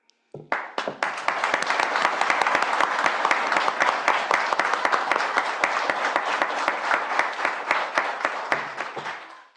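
A church congregation breaks into sustained, dense applause that starts abruptly, holds steady for several seconds of many hands clapping, then tapers off at the close.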